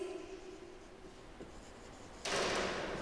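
A chemistry definition is written out by hand in a steady, faint scratching stroke, with a quiet room hum, then a louder broadband rush takes over near the end.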